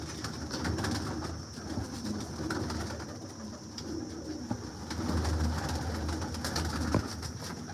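A loft of Dilawar Khan breed pigeons kept for sale, including Heera Lal, Lakhe and Tausi types, coo in low, continuous murmurs amid steady background noise, with no voices.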